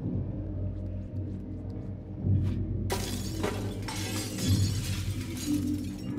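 Glass shatters in the video game Little Nightmares after a thrown can strikes it, a loud, sudden crash that bursts out midway and breaks into a sustained spray of tinkling shards over a low ambient rumble.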